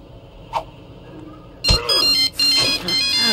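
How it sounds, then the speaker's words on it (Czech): An in-game telephone in Russian Roulette: Online sounds with bright, electronic ringing bursts that begin partway through, loud and repeated after a quieter stretch with a brief earlier blip. "Nechápu ten telefon"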